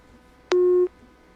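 A single short telephone busy-signal beep sounds, a clean steady tone lasting about a third of a second against quiet background hiss.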